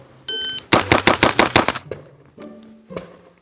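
An Inter Ordnance 9mm carbine firing subsonic rounds at a range: a short tone, then a rapid burst of about ten close, sharp shots, followed by two quieter separate bangs.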